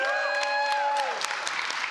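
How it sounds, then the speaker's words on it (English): A showcase audience applauds two winning participants, a short burst of clapping and crowd noise that rises as sustained tonal notes fade out in the first second. "Give us some rounds of applause."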